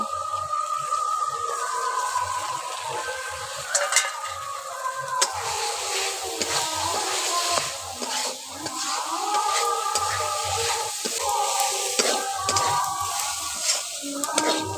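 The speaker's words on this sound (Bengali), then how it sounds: "এখন সয়াবিনগুলো ওর মধ্যে দিয়ে একটু ভালো করে কষে নেব।" Soybean chunks stir-fried in hot spiced oil in a pan, with continuous sizzling and repeated scraping stirs of the spatula, close and fairly loud, no talking.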